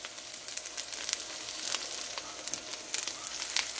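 Steak sizzling on a grill, a steady bright crackle and hiss with scattered pops, continuous and moderately loud with no voices.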